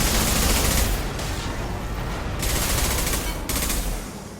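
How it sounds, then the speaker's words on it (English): Heavy, continuous automatic fire from a gunship in the Mass Effect 2 video game, loud and dense throughout with slight surges and dips in the rattle before easing a little at the end. "Wait for the gunship to stop shooting."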